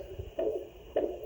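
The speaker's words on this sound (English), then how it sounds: "Heartbeat." Two soft, low thumps from a sound machine's heartbeat setting, spaced about half a second apart like a muffled heartbeat, fairly quiet against a faint steady hiss.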